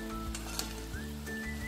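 Namak pare, a crisp dough snack, fry in oil over low heat until brown, with a soft steady sizzle and a few faint clinks, quiet and continuous with no talking.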